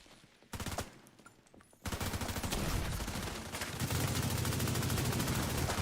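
Automatic gunfire crackles in The Division shooter game: a short burst, a pause, then a long continuous stream of rapid shots, loud and dense.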